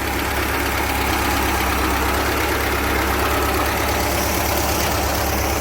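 A 1970 VW Karmann Ghia engine, being converted to Autostick, runs steadily on a stand with a continuous idling rumble and rapid mechanical knocking throughout, loud and close, with no voices.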